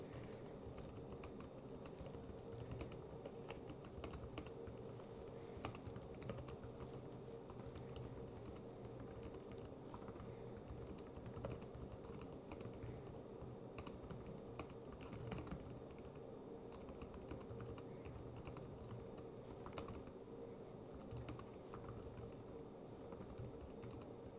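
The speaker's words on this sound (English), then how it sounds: "So let's just give this a quick type." Steady, continuous typing on a Lenovo ThinkPad P series laptop keyboard with rapid soft clicks throughout, at a moderate level and without any voices.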